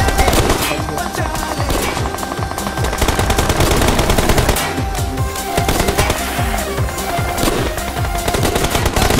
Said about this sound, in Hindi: फायरिंग है ना